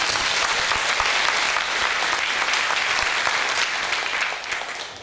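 Steady, full applause from a church congregation giving thanks after a mission report, dense clapping that holds evenly for several seconds before tapering slightly at the end.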